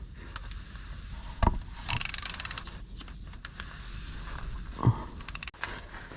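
A ratchet works on a bolt in the engine bay of a Renault Clio 4 with the 1.2 petrol 120 hp engine during an oil service, giving brief clicking bursts and scattered metallic knocks, fairly close, with no talk.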